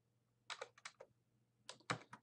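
Keys tapped on a computer keyboard in two short bursts of quick clicks, close but quiet, with no talk.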